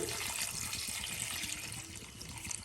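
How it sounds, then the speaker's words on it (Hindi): Water poured from glasses into a kadai holding plums for chutney, a soft continuous rushing and splashing pour at low volume with no voices. "4 से 5 गिलास मैंने इसमें पानी डाल दिया है।"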